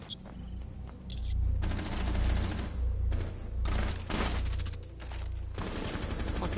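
Gunfire in Rainbow 6 Siege: loud, close bursts of rapid automatic shots in several long volleys with short gaps between them, and no talk over the shooting.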